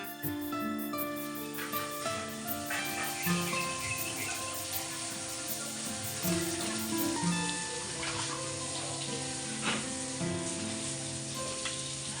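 Water is poured steadily over a child at bath time, a continuous splashing rush that holds at an even level throughout, with a faint tonal hum running beneath it.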